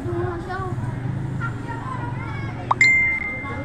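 A phone's text-message notification ding rings out once, bright and brief, near the end, over a steady low hum and background murmur.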